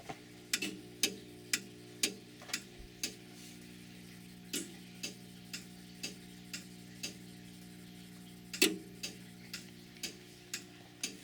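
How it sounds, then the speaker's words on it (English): A Simplex 4010 fire alarm panel clicks steadily at about one per second with a faint electrical hum underneath, quiet and close, with no voices. "That clicking is music to my ears"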